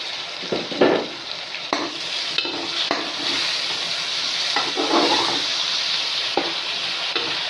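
Cumin, black pepper and ground spices with a large tomato being stir-fried for pulao in a pan, a steady sizzle broken by repeated scraping strokes of a spoon against the metal, close and loud with no talking.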